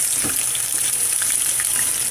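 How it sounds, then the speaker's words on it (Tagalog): Potatoes fry in a pan after onions, cooked until browned for corned beef with fried potatoes. A steady, close, crackling sizzle with light stirring noises runs throughout, with no talking. "para maprito na natin yung ating mga patatas"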